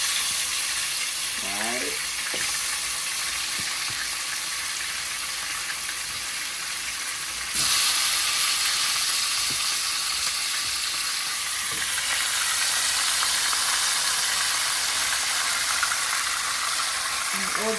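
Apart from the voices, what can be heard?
meat frying in hot oil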